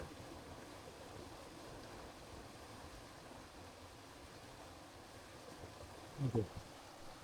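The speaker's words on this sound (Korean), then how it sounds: "여기서는 저 물소리가 제일 예쁜 것 같아요" A steady, faint wash of flowing water runs throughout, soft and distant, in a dawn village alley in Iwadeyama, Japan, with a couple of brief low thumps near the end.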